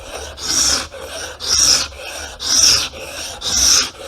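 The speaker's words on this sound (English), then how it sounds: "Look at the amount of wood that thing's removing." A sharpened paint scraper blade scrapes wood off a board in four regular rasping strokes, each a loud close scratchy rub separated by brief pauses.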